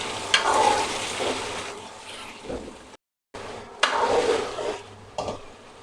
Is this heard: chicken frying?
yes